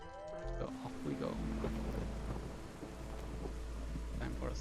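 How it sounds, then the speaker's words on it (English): A thunderstorm in the city-building game Against the Storm, with a deep low rumble of thunder rolling under steady rain hiss, loud and sustained after a short burst of game tones at the start. "Time for a storm again."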